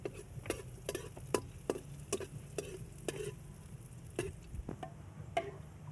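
Ginger, garlic and onion sauté in a pan, with a soft steady sizzle broken by regular scraping clicks from stirring, heard close with no voices.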